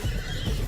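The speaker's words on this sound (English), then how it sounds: "Horses, they're not native." A horse neighs in a brief, loud, close whinny with a wavering tone and low snorting underneath, lasting under a second.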